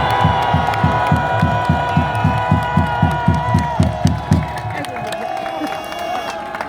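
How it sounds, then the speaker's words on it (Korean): Crowd at a political rally shouting and cheering in unison, with rhythmic collective chanting pulses that then swell into a sustained roar, loud and full. "그러면 함성으로 한번 해보세요."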